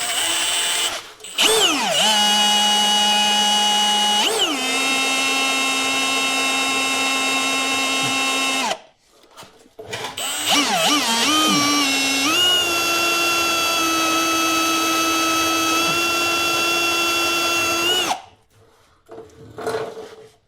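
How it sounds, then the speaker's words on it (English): A power drill bores with a drill bit during a 1996 Ford F350 2WD to 4x4 swap, running in two long sustained whines with pitch swings as it spins up and loads, separated by short pauses, loud and close with no talk. "Fast speeds mean a burnt up drill bit really fast"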